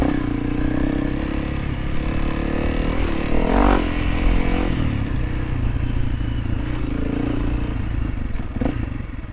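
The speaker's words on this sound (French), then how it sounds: "Je préfère faire de l'enduro franchissement que rouler à fond dans les flaques de boue." An enduro motorcycle rides through mud on a trail in Thailand, its engine droning loud and close under clattering, scraping and thumping from the terrain.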